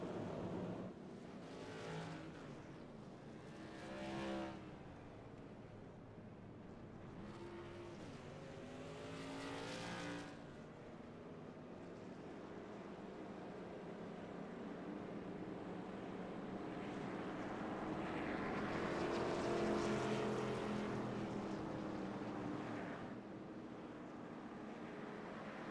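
Race cars circle slowly behind the pace car under caution at a Turn 5 Motorsports race night, engines droning faint and distant, with swelling passes and a louder rise toward the end.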